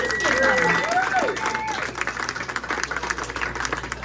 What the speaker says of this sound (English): Let's have a big round of applause for Jackson